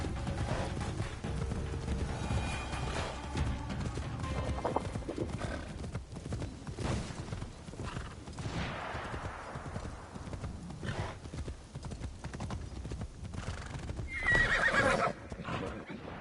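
Horses gallop with rapid, rhythmic clip-clop hoofbeats and let out whinnies during a horseback chase in the video game Assassin's Creed Shadows, heard alongside game sound effects.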